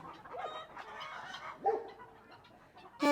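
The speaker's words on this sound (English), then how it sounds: "sounds like a chicken's laying an egg or something." Chickens on a farm clucking in a rhythmic cackle with a rooster-like call breaking through, close and moderately loud, with several clucks overlapping and no talk.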